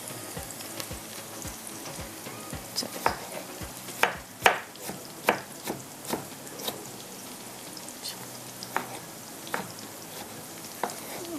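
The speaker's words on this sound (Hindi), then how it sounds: "जब तक प्याज थोड़ा सा हमारा यहाँ पर फ्राई हो रहा है" Onion frying in a pan, a soft continuous sizzle under a run of crisp pops and spatters, some louder bursts in the middle, heard up close with no talking.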